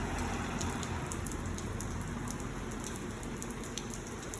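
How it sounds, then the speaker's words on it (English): Heavy thunderstorm rain pours down in a dense, steady hiss of drops drumming on surfaces, constant and unbroken with no voices. "It was raining really hard."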